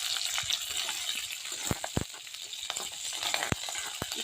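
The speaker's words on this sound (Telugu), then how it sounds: "కొంచెం ఆయిల్ వేసుకుని దాంట్లో కొద్దిగా ఆవాలు, కొంచెం జీలకర్ర, వెల్లుల్లిపాయ, అలాగే ఎండుమిర్చి, కరివేపాకు వేసుకుని మంచిగా ఫ్రై చేయాలి" A tempering of mustard seeds, cumin, garlic, dried red chillies and curry leaves frying in hot oil for pesara kattu charu, a steady close sizzle punctuated by sharp popping crackles and spatters, with no talking.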